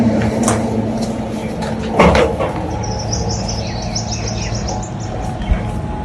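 A gate swings open with a brief clattering, scraping burst near the two-second mark, set against a steady low hum and scattered outdoor bird chirps.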